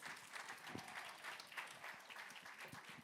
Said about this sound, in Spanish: Un aplauso para ustedes, un aplauso para ustedes.